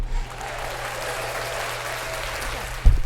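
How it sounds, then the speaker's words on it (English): Faint, diffuse murmur of a small audience applauding thinly, with a low hum underneath and a soft thump near the end. "She got 2 claps."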